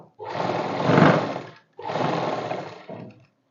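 An electric sewing machine stitches a suit in two sustained motorised runs separated by a short pause, whirring loudly and close, with a brief softer burst at the end.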